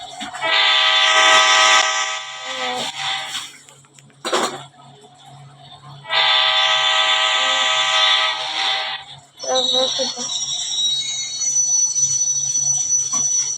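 A train runs near Kalyan Junction with a loud, close horn sounding in long blasts: one, a second after a pause, then a third, over a continuous rumble of the moving cars.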